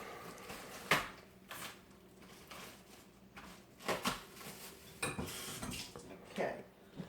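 Knife chopping celery on a board for beef stew, a handful of sharp, irregular clicks and taps spaced about a second apart over quiet kitchen background.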